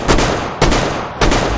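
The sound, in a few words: gun firing in the video game Metro Exodus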